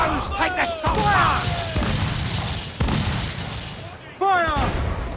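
Ship cannons fire in Assassin's Creed IV: Black Flag, several heavy booming shots in quick succession, loud and close, rolling into rumbling echoes while crew members shout over the barrage.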